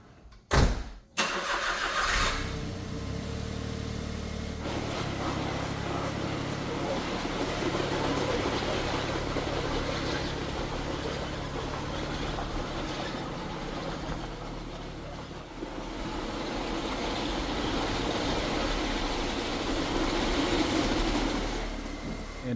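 A Smart car's engine starts with a sharp crank and catch, then idles and pulls as the small car rolls forward and backward, a steady close engine hum with shifts in load.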